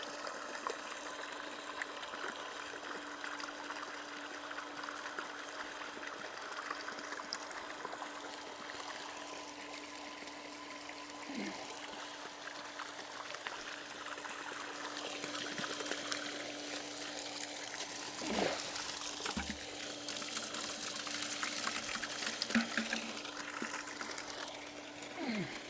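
Dirty, rust-tinged water pumped from a shallow well pump, a steady running and splashing flow with a constant mechanical hum underneath, continuous throughout at moderate level.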